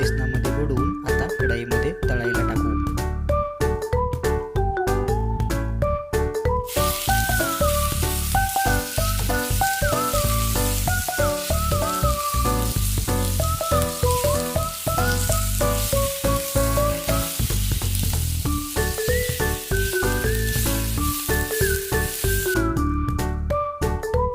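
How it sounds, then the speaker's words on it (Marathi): Vada pav potato fritters deep-frying in hot oil give a steady, dense sizzle that runs under tuneful background music for most of the stretch. "वड्यांना चांगला असा लालसर रंग येऊस तर आपण त्याला तळून घेऊयात"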